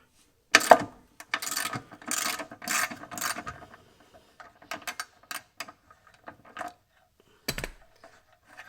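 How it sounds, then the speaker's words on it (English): Ratchet with a 10 mm deep socket working on the side-step bolts of a Jeep Wrangler JL, giving several quick bursts of clicking with short pauses between them, close and clear, followed by scattered lighter ticks and a final click. "I'm using a deep socket because these are a little bit deep, these bolts that are attached to the slider"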